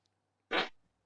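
A single short, sharp fart bursts out close and loud for about a quarter second, then tails off, with near silence around it.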